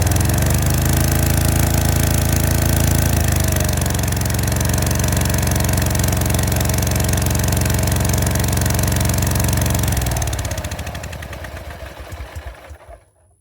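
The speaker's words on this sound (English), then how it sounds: "that time when I turned off the key, it didn't want to turn off right away" Gravely 34z zero-turn mower engine running at a loud, steady roar, its pitch dropping around three seconds in, then sputtering and winding down to a stop after ten seconds; no talking.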